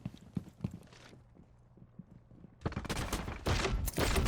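Gunfire from a video game gunfight, with sparse scattered shots at first and then a dense, loud burst of rapid fire that runs to the end.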